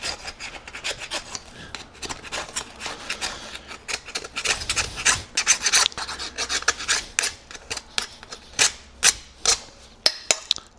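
Metal scraper rasping across a lawn mower deck and blade, steady rough strokes that grow into a distinct back-and-forth rhythm, close and fairly loud with no talking.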